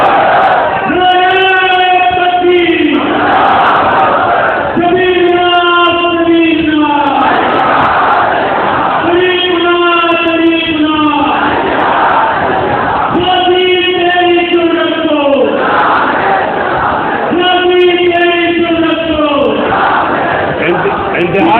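A large rally crowd roars slogans back in unison, five loud, rhythmic bursts of many voices chanting in reply, each rising together and fading in the gap before the next call.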